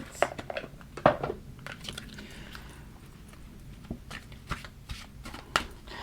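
Tarot cards are shuffled by hand at close range, producing soft, irregular riffles, flicks and papery rustles in quick bursts, with quieter pauses between them and no one talking.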